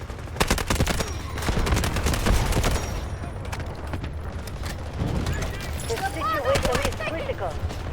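Dense, rapid SMG-45 gunfire while shooting bots in the video game Delta Force, loud and near, with sustained bursts and heavy impacts mixed with battlefield noise and chirpy effects late on.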